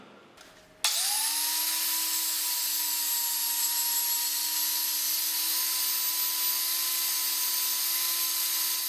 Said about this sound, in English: angle grinder being used to cut off that peened over head